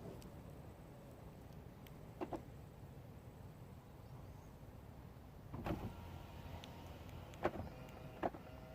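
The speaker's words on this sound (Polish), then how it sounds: "samochód ma spuszczane i podnoszone szyby elektrycznie" Electric windows on a Ford Focus 1.6 whirring down and up by remote, faint motor runs with brief clicks and thuds at the stops over a quiet outdoor background.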